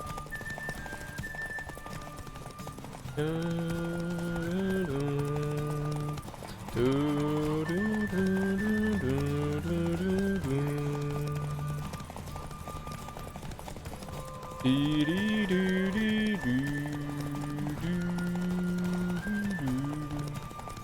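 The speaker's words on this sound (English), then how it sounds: "Está un poco cansado mi caballo." Rhythmic hoofbeats of a horse in The Witcher 3, steady and close, running beneath a prominent melodic music score for the whole stretch, with a tired horse slowing at moments.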